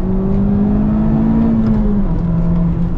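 A first-year Honda Civic Type R engine pulls hard up through the gears, a steady, loud, close-up drone that climbs in pitch, dips at a shift around two seconds in, then carries on.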